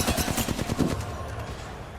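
Rapid automatic gunfire rattles in an Apex Legends match, a loud dense burst of shots for about a second that then fades into a lingering echo.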